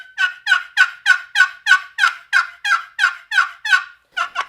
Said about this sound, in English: I like a box for really good hen yelping.